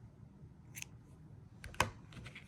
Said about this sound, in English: Then we just need to trim the yarn.